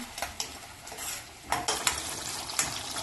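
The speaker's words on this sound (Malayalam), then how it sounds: "ഇത് ഇളക്കി വഴറ്റാം." Sambal paste, ground in a mixer and loosened with a little water, stirred and sautéed in a pan: a steady low sizzle broken by sharp scraping strokes of a spoon against the pan, with no voices.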